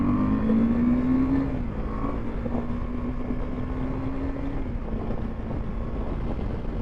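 A 2024 KTM Adventure 390 motorcycle pulls away with a rising engine note, then settles into a steady drone under heavy wind rush, heard from the rider's position with no talking.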